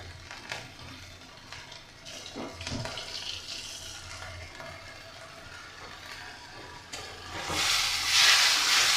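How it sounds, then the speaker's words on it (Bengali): Spice paste fries in a pan for a mung dal dish: a low, quiet sizzle with occasional stirring scrapes, swelling into a louder hiss toward the end. "মশলাটা দিয়ে আমি ভালো করে ভেজে নিলাম"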